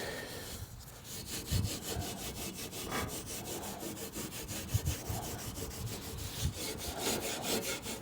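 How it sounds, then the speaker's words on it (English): Steel wool scrubs hard against a pot metal 1955 Chevy bumper, a continuous close, coarse rasping friction with rhythmic back-and-forth strokes and no talk. "Oh, this is tearing that steel wool."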